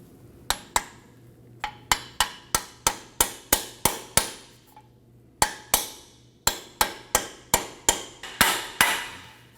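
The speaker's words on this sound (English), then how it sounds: "I'm going to install a cup here to help us tap this up into place." A hammer taps a Volvo XC90 front ball joint up into place through a cup, a close series of about twenty sharp metallic strikes in uneven bursts with short pauses between.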